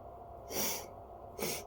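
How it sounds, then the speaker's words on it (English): Two short, airy allergy sniffs through the nose, close up and about a second apart, with quiet room noise between them. "Pardon me for sniffling"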